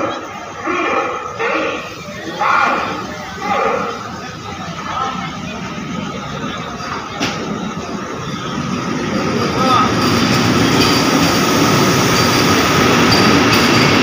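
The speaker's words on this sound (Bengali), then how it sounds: "20-894 পাটনা টাটানগর বন্দে ভারত এক্সপ্রেস।" The Patna–Tatanagar Vande Bharat Express runs along the rail line with a steady, loud rolling roar that builds in intensity, with a voice talking over the first seconds.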